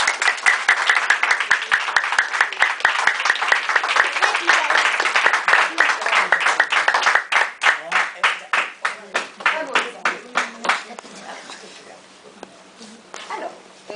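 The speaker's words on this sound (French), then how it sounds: "et vous pouvez aussi applaudir notre souffleur Zacharia" A theatre audience applauding the show's prompter: dense, loud clapping that thins into separate slower claps and then fades away.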